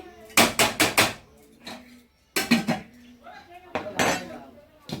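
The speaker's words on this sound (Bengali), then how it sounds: "এই যে থালায় ভাত গুছিয়ে নিয়েছি" Rice is served onto a plate at lunch with dishes clattering, heard as loud clustered bursts of clinking and knocking separated by quieter gaps, alongside a voice.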